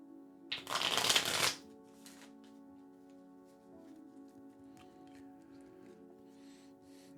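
A single quick riffle of a deck of tarot cards, a crisp fluttering burst about a second long, close to the microphone, then quiet room tone with faint soft handling.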